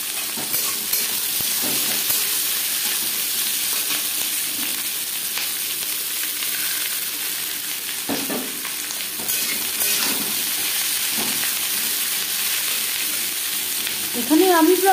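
About 400 grams of chopped onion frying in mustard oil with bay leaves for a chicken curry, a steady even sizzle running throughout with occasional soft stirring scrapes and a short voice at the very end.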